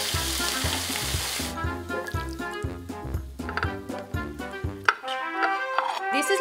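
Salmon frying in olive oil gives a steady, close sizzle with bright crackle, set against a rhythmic thumping music bed throughout.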